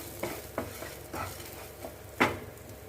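Toor dal dry-roasting in a pan is stirred with about five irregular scraping strokes, close and crisp, over a light background sizzle.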